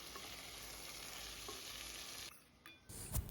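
Spice paste and fried potatoes sizzle steadily in a pan while being stirred for a vegetarian paneer curry, a continuous close hiss that drops away near the end before a brief clatter of the spoon.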